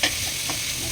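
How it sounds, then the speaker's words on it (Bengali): A spoon stirs salted food frying in a pan on a home stove, one short scrape over a steady sizzle, close and fairly loud, with no talking. "একটু নাড়িয়ে দেবেন।"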